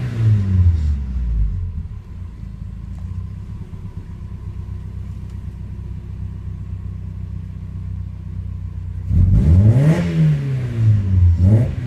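A Mazda Miata engine idles low and steady, then revs briefly twice with rising and falling pitch near the end.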